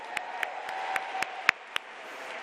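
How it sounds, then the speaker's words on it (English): Audience at a Milwaukee town hall applauding Wisconsin Governor Scott Walker, a thin scattering of separate claps over a steady background hum, fairly faint and sparse. "Let's give him a round of applause."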